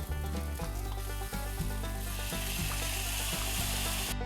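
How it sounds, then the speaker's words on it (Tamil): Tomatoes frying with ginger-garlic paste for dhaba-style kadai paneer, a dense, loud, continuous sizzle with regular spatula scrapes at roughly half-second intervals. "நம்ம தக்காளி வதங்க ஆரம்பிச்சிச்சு"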